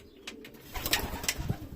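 Pigeons in a loft giving a few soft, low coos alongside light rustling and fluttering, faint and close by with no talk.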